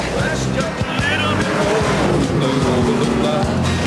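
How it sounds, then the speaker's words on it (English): A General Lee car driven hard on a fast lap, its engine roaring loud and steady throughout, with a rumbling low drone and occasional rising notes from the tyres and gear changes. "Right, come on, Boss Hog, let's do a fast lap."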